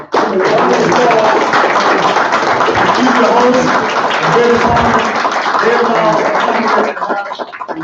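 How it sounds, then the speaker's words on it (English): Round of applause from an audience at an African American Studies program welcome, dense steady clapping that fills most of the clip before cutting off, with a voice speaking briefly over it. "Can you all give her a round of applause?"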